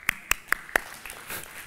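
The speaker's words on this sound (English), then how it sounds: "All right, I'll clap." A person claps their hands four times in an evenly spaced, sharp sequence, followed by faint room noise.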